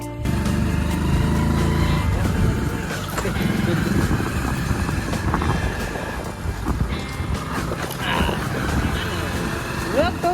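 Two motorbikes ride along outdoors, a continuous engine drone mixed with heavy wind rush across the microphone, with people talking over the ride.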